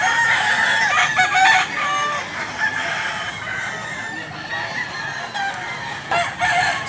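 Sweater-breed gamecock roosters crow and cluck in a busy yard in Mantalongon, Cebu, with several birds calling at once in a dense, continuous chorus at close to middle distance.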